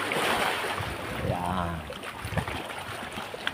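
Strong sea waves crash and wash against a rock formation, a continuous close surging roar with a brief voice speaking over it.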